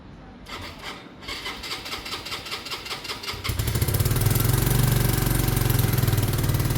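A Mutt Fat Sabbath 125cc motorcycle is turned over with a whirring electric starter, then catches and settles into a steady, rumbling idle, close and fairly loud.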